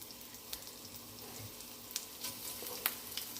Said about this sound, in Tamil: ஃப்ரை செய்கிறதுக்கு பேன் எடுத்தாச்சு. எண்ணெய் சூடாகிடுச்சு. இப்போ நம்ம கொஞ்சம் சோம்பு போட்டுக்கலாம்.